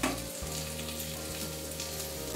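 Chopped medium tomato and slit green chillies sizzle steadily in a pan of low oil, a dense continuous hiss with a brief dip near the start, no talking.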